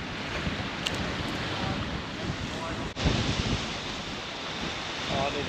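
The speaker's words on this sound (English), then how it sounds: "It's windy, you can see it." Onshore wind gusting along the Palm Beach shoreline, heard as steady broadband microphone buffeting over surf noise, loud and continuous with a brief dropout midway and faint voices in the background.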